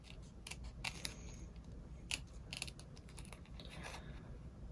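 Scissors cut through glitter iron-on vinyl to shape a swoosh for personalised Nike sneakers: close, crisp snips in a steady, uneven rhythm over a constant low background hum.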